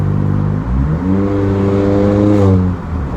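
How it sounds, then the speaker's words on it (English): A 2019–2020 Honda Accord Sport 1.5T engine, with intercooler resonator deleted, revs up with a rising growl and turbo whine, the exhaust rumbling loud and close as it accelerates, then eases off. "I could hear the turbo, like the exhaust to it is beautiful"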